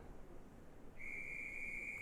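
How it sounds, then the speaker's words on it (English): A referee's starting whistle blows at the 2020 Scottish Schools Swimming Championships in an indoor pool, a single long, steady, piercing tone that begins halfway through and holds to the end over a low hall ambience. "So the whistle goes and they're just about ready to get self-started"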